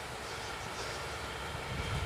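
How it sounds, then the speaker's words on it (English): A train passes along a rural railway line on a countryside walk near Eastleigh and Shawford, heard as a steady broadband rumble and rush that swells slightly toward the end, with no talk over it. "Hear a train."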